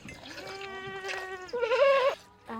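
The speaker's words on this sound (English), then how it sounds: "she has to help her mother milk the goats" Goats bleat during milking at a rural homestead in Kajiado, Kenya: a long wavering bleat followed by a louder, higher one, close and clear against a quiet background.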